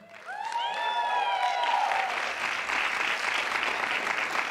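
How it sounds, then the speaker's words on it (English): Applause from a concert audience swells in after a brief high sung or whistled phrase, then holds as a broad, steady wash of clapping at moderate distance. "I would love for y'all to give yourselves a round of applause"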